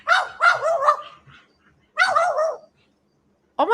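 A magpie mimics a dog's bark with clear, sharp barks: a quick run of three or four, a pause, then another pair, and a final bark cut off at the end, heard up close with no voices.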